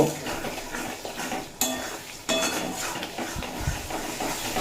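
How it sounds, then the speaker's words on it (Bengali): Bottle gourd and egg curry is stir-fried with spices in a pan: a spoon scrapes and clinks against the metal over a soft frying hiss, with occasional louder knocks, close up and without speech. "বাকি মশলা দিয়েও দুই মিনিট মতো কষিয়ে নিয়েছি"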